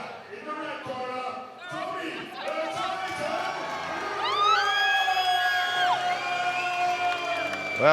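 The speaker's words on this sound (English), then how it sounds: "the crowd has come up in support of Tommy Browne in the end" A fight crowd at a Singapore combat event swells into shouting, whooping and cheering for Tommy Browne, growing louder toward the end, with a commentator talking over the noise.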